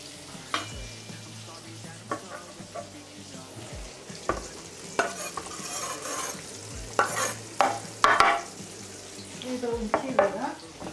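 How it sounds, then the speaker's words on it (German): Pumpkin and onions sizzle in a hot pan while a utensil stirs and scrapes them at close range, with light clatter throughout. "Ich tue jetzt meine vorbereiteten Kürbis in die Pfanne."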